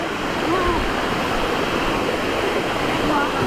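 A waterfall at a volcano in Thailand, a loud, steady rushing roar of falling water filling the whole stretch, with faint voices barely audible beneath it.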